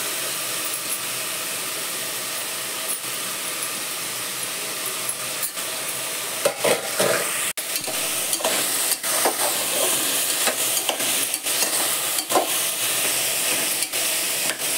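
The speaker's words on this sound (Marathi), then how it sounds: "छान असं ह्या भाज्या असं परतून द्यायच्या चांगल्या." Mixed vegetables being sautéed with kasuri methi for veg pulao, a steady loud sizzle and hiss with scraping stirs growing busier in the second half, no voices.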